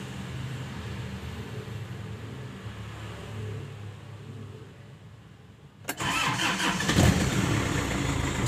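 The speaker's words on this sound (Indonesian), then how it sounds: "Selanjutnya kita coba hidupkan mesinnya. Seperti biasa dipanasin terlebih dahulu." A 1992 Daihatsu Taft GT F70 engine cranks and catches after a stretch of low background rumble, then settles into a loud, steady idle close by, with no talking.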